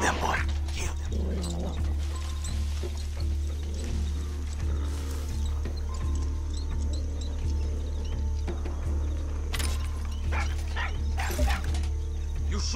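A dog in the video game Far Cry 6 barks repeatedly and whimpers, sharp yips and short barks recurring over a steady low background drone, with a voice briefly heard.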